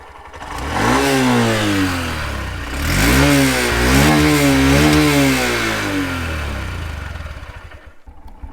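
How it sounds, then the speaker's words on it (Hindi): A 2022 Honda Shine 125 motorcycle engine idles and revs repeatedly, its exhaust note rising and falling in pitch, loud and close, with no talking. "अब एक काम करते हैं, इसका एग्जॉस्ट नोट सुन लेते हैं"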